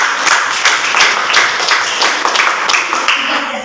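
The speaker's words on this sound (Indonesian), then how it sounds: "Oke, kita tepuk tangan untuk kelompok." Classmates clap together after a group presentation in a classroom during a school exam practice, a dense, steady burst of many hands close by with faint voices mixed underneath.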